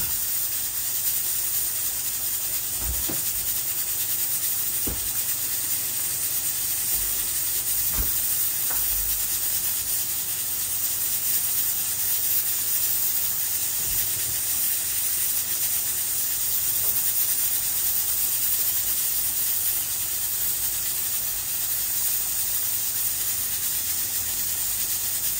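A pressure cooker boiling peas hisses steam in a loud, unbroken jet for the whole stretch, with a few faint knocks underneath and no voices.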